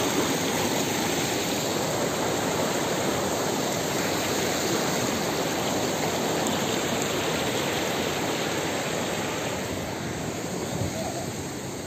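River water rushes over stones in a steady, loud broadband wash that holds constant from start to finish, with no clear voices above it.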